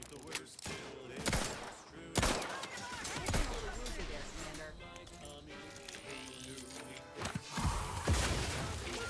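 Automated turret gunfire in the Outer Worlds 2 video game, loud sharp bursts of repeated shots with heavy impacts recurring across the scene, mixed with other game effects and a voice talking over it.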